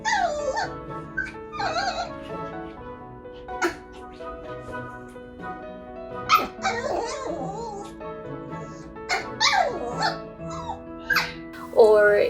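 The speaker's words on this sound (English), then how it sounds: "Zuko really barks. He gets a little bit yappy when he's excited" Toy poodle puppy named Zuko yapping excitedly in short high-pitched barks and yips scattered through the stretch, some sharper bursts near the end, with a person talking intermittently alongside.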